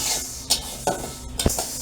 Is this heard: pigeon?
no